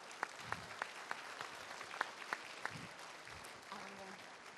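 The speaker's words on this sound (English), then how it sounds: "Please give him a warm round of applause." Audience applause at a voters forum as a city council member is introduced, scattered sharp claps over a soft crowd background, with some voice sounds in the room.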